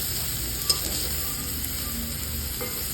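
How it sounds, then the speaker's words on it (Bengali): Green banana slices frying in a pan make a soft, steady sizzle with faint stirring, quiet and continuous for about three seconds with no talk. "আর এদিকে কাঁচকলা ভাজাটা করে নিয়ে"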